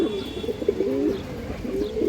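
A breeding pair of Naira Mushaldam pigeons cooing close by, soft repeated throaty coos in a short steady run with no talking.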